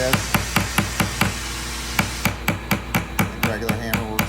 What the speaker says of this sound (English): Take a ball peen hammer, has a little rounded end, or even a regular hammer.